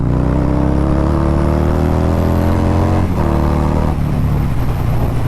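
A Harley-Davidson Fat Bob 117 with a Stage 3 kit accelerates on a countryside road, its loud, close engine rising steadily in pitch, dipping briefly at a gear change before pulling again.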